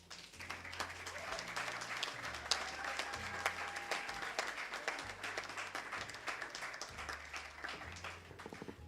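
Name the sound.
audience applause after lecture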